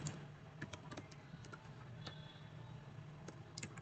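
Fingers tap out JavaScript on a computer keyboard in quiet, uneven bursts of light clicks, near and soft, with brief pauses between runs of keystrokes.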